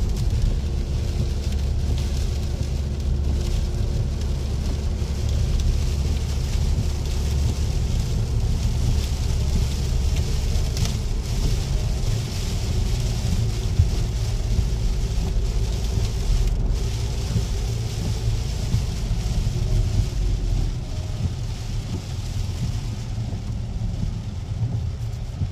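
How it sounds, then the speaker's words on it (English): Heavy rain beats on a moving car during a wet drive through Sassenberg, Germany, heard from inside as a steady close wash over a deep road and engine rumble, with no talk. "It's super rainy."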